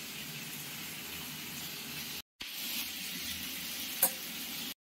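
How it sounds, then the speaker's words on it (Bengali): Cauliflower with salt and turmeric deep-fries in oil, giving a steady, soft hiss of sizzling with a brief cut and a faint clink near the end. "ভালো করে একটু ডুবো তেলে ভেজে নিলেই যথেষ্ট।"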